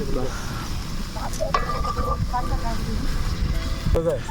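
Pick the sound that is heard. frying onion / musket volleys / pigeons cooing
frying onion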